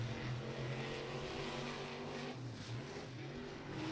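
Race cars lapping on qualifying runs at Beckley Motor Speedway, a steady broad engine drone at a distance, rising and falling slightly as the cars pass, with no voices.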